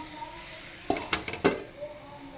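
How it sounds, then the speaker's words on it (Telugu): A metal lid set onto a cooking pot of methi dal, a few light clinks and knocks in quick succession against a steady low kitchen background. "మూత పెట్టుకోవాలి."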